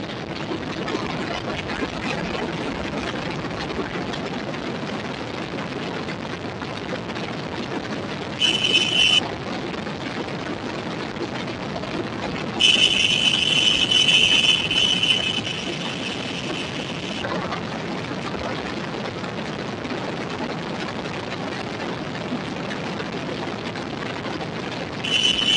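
A KTM Duke 200 motorcycle runs at high speed, its engine a steady roar mixed with rushing wind that stays constant throughout, with a brief louder higher whine now and then.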